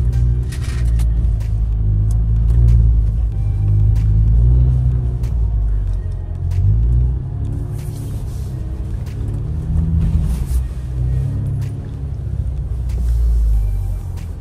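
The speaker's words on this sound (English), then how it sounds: "let's get right into trying to slide this Giulia around" An Alfa Romeo Giulia Q4 all-wheel-drive sedan slides around on snow in normal mode, with its engine rumbling loudly up close. Revs rise and fall repeatedly as traction control cuts power, and wind or snow noise crackles over the drone.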